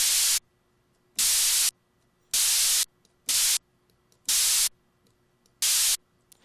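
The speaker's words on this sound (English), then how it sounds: "So let's hear just that noise generator." A noise generator in the Massive software synthesizer, set up for a snare drum patch, gives six loud bursts of broadband hiss. Each burst cuts off abruptly and is separated by near silence in a steady on-off rhythm.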